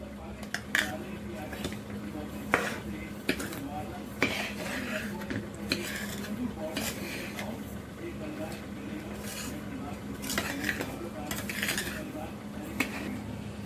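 A spoon scrapes and knocks around a pot while laddoo mixture is stirred, irregular clinks and scuffs through the whole stretch, with a voice speaking quietly in the background.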